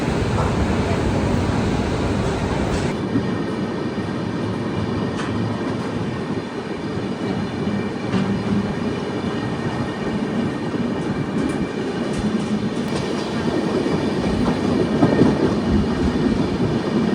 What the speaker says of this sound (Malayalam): 9 മിനിറ്റ് ലേറ്റ് ആയിട്ട് നമ്മുടെ കൊച്ചുവേളി സൂപ്പർ ഫാസ്റ്റ് ഇവിടെ തുമക്കൂർ സ്റ്റേഷനിൽ വന്നു കേട്ടോ